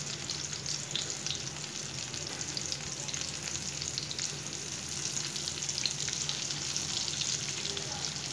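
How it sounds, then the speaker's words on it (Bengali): Hilsa fish frying slowly in plenty of mustard oil, giving a steady, dense sizzle and crackle that holds evenly throughout, close and fairly loud, with no talking. "আর এটা একটু আস্তে আস্তে একটু সময় নিয়ে ভাজতে হবে।"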